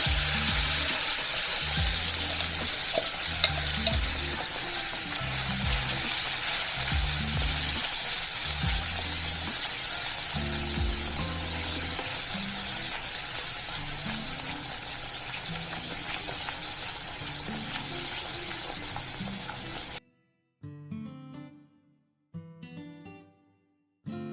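Egg curry gravy with masala powder heats in a pan, giving a steady loud sizzle and bubbling hiss under rhythmic stirring knocks, and then breaking into a few short bursts near the end.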